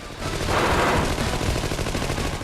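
Sustained rapid gunfire from the arcade shooter Wolf of the Battlefield: Commando 3, a dense, loud stream of overlapping shots that carries on without a break for the whole stretch.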